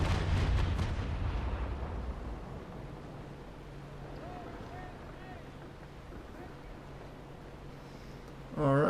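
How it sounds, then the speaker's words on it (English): Carronade cannons fire during a battle between 2nd rate ships of the line in the naval game Naval Action: a heavy booming volley that rolls away into wind and sea ambience, with another sharp burst right at the end. "Carronades. Oh, those are firing a little bit too high for my taste."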